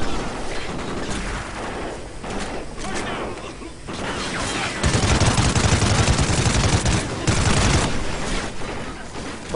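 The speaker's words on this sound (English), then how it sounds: "Taking fire!" Rapid bursts of gunfire in the Call of Duty Ghosts singleplayer campaign, loud clattering volleys and mechanical clicks that intensify in the second half, with brief voices mixed in.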